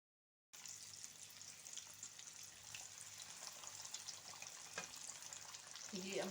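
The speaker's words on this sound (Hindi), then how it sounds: "फ्राई करूँगी" Coated fish in a cornflour and maida batter fries in hot oil, giving a steady, fairly soft sizzle that runs unbroken after a brief silent start, with a small clatter near the end.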